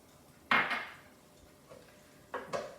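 Ground meat coated with ketchup being stirred in a pan, a few distinct utensil scrapes and clinks against the cookware, quiet and spaced apart.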